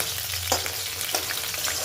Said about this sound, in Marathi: मी तर सगळ्या मिरच्या तळून घेते आधी या पद्धतीने